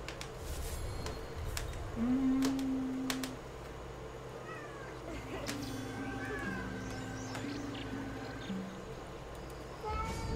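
A pet cat meows several times indoors, short rising and falling calls spread across the clip, moderately close over a low room hum, with faint other noises but no clear talk.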